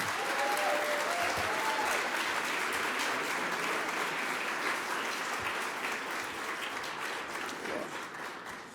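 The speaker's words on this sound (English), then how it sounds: "let's give her a round of applause" An audience at a placemaking event in Detroit claps steadily in a broad, continuous wave of applause, slowly tapering over nearly nine seconds.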